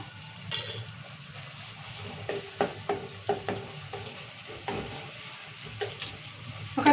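Ginger fries in oil with tomatoes, chillies and onions for a chicken curry, a low continuous sizzle under irregular scraping stirs and spoon knocks against the pan, close and moderately quiet.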